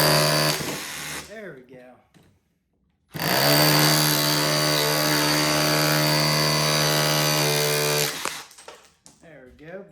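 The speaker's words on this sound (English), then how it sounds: "it helps if I just go into just hammer drill" Cheap cordless SDS hammer drill in hammer-drill mode, a loud, steady rattling roar for about five seconds after a brief pause, with someone speaking before and after.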